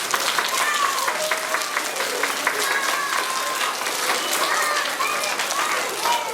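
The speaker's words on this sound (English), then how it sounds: "Let's give them one more big round of applause." Children and staff at a school assembly break into a big round of applause, dense clapping filling the hall continuously for several seconds with cheers and voices mixed in.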